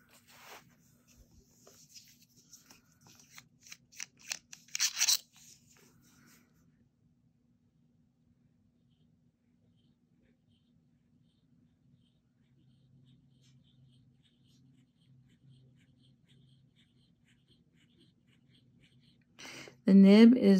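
A fountain pen with a leather body scratches across paper in a quick run of close, quiet strokes, followed by a long near-silence.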